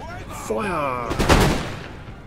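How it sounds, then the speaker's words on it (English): Howitzer fire in the Empire: Total War video game booms loudly once, a heavy blast with a rumbling tail, following a brief stretch of talk. "my howitzer is still firing"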